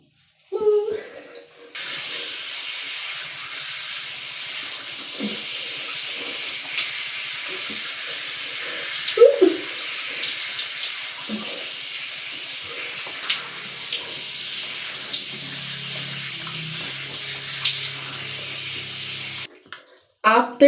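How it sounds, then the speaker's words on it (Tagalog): Steady broadband rush of running water close by, continuous for most of the stretch, with occasional splashes and thumps breaking through. "I'm using our shower"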